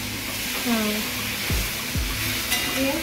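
Brinjal (eggplant) pieces fry in a pan with a steady close sizzle, a few stirring scrapes cutting through, while a voice murmurs faintly in the background.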